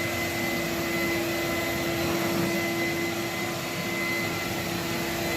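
A vacuum cleaner runs steadily on thick carpet, a loud continuous motor drone with a sharp tonal whine and heavy airflow roar that never lets up.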